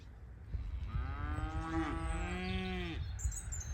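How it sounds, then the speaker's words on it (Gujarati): A cow in a field in the UK lets out one long, rising and falling moo lasting about two seconds, moderately close over quiet outdoor background. "તો આ છે યુકેની ગાયો કેવું મસ્ત બિચારી ઊભી જો"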